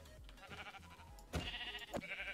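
Sheep bleating in the Minecraft video game: two short, clear synthetic bleats close by, the second a little later than the first, over a low, steady game background.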